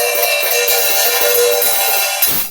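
A loose, washy cymbal sizzle rings continuously, bright and loud, with faint pulses of repeated strikes underneath.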